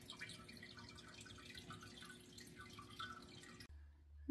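Water drips and trickles into a home aquarium filter tank, a steady, faint patter that stops abruptly near the end.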